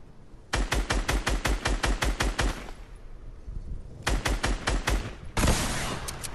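Gunfire in a first-person video game during a duo sniping match: a fast, evenly spaced volley of loud, close shots, a pause, then a shorter burst and a final heavy blast.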